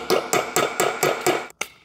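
Sharp metal hammer strikes drive frozen pins out of a DeLorean reservoir, six loud close blows in an even rhythm with a short gap before the last.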